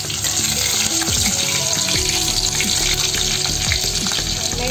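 Garlic cloves and green chilies fry in hot oil for a paneer vegetable biryani, giving a dense, continuous sizzle with occasional stirring clinks close by.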